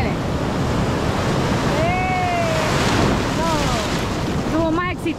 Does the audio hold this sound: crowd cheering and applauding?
no